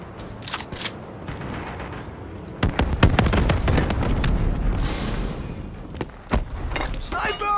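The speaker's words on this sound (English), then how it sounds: "Be advised, hostile hellstorm inbound." Hellstorm missile strike explosions in Call of Duty: Black Ops III, with a scatter of sharp impacts and booms early, then a heavier rumbling blast cluster midway and more cracks toward the end, amid gunfire-like clatter.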